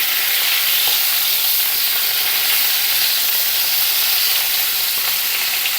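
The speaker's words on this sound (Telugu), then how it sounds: "కాకరకాయలు అలా వేసేసుకొని ఆయిల్లో ఫ్రై చేసుకొని పక్కన తీసి పెట్టుకుంటూ వేసుకోవాలి." Stuffed bitter gourds fry in hot oil, giving a steady, dense sizzle that stays loud and even throughout with no talking.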